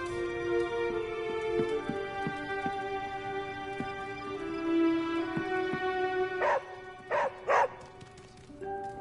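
A dog barks a few times in the video game Marvel's Midnight Suns, sharp close yips coming in a quick cluster near the end over steady background music.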